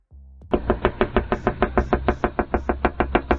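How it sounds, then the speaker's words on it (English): Someone raps steadily on a house door, about sixteen loud, evenly spaced knocks in quick succession, each close and sharp, with no one talking. "The crook started by knocking on the door to see if anyone was home."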